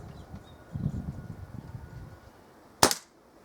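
A Kral NP02 air rifle fires a single pellet at a paper target: one sharp, loud crack near the end, after a few seconds of low, quiet background rumble.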